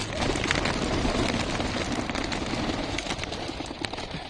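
A flock of 34 homing pigeons returns from early-morning training, giving constant close cooing and bird calls with flapping and rustling under it, steady and busy throughout.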